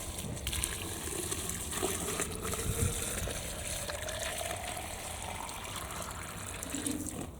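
Water pours from a bottle onto greedy squash plants in a kitchen garden, a steady close gush and splash that holds for several seconds with a faintly rising filling tone.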